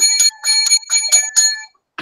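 A bright metallic bell rings in quick repeated bursts, about six rapid dings close by, then stops abruptly.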